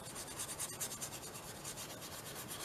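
Small brush scrubbing material off a mixed-media seahorse collage, a steady close rhythmic rubbing and scratching with quick repeated strokes and no voices.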